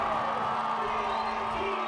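A stadium crowd at a Reno 1868 FC vs OKC Energy FC USL playoff soccer match cheers and roars steadily, a dense continuous wash of voices with a sustained whistle-like tone running through it.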